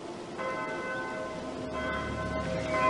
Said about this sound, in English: It's just a church bell, Martin.